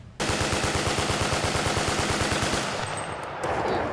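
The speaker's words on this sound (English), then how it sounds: "The M60 General Purpose Machine Gun, everybody." An M60 general purpose machine gun firing at a military reenactment event, a loud close sustained burst of rapid, evenly spaced shots lasting over two seconds, followed by echo and another short burst, with no voices.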